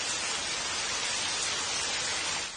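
Cartoon rain falls as a dense, even hiss, loud and constant throughout, with no voices over it.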